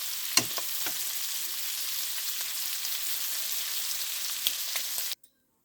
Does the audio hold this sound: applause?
no